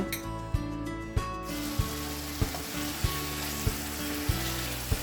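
Eggs frying in a pan for egg bhuna, a dense continuous sizzle up close with regular soft knocks every half second or so.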